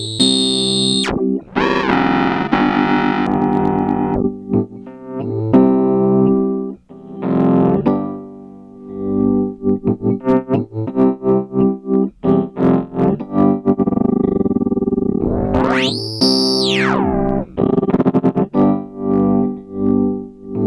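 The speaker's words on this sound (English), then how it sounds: "It's like an auto filter, but instead of sweeping around the audio spectrum, it sweeps around oscillator to get unpredictable sound." Logic Pro X sci-fi filter effect plugin sweeping an oscillator over synth notes, producing a distorted, buzzing sequence with pulsing choppy gaps and bright rising and falling whooshes, loud and up close with no voice.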